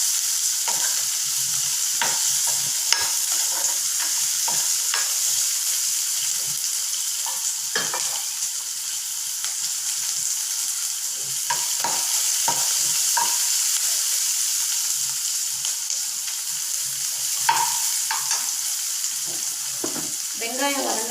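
Onions sauté in hot oil with a little salt toward golden brown for a drumstick-leaf stir-fry, giving a steady close sizzle broken by frequent spatula scrapes.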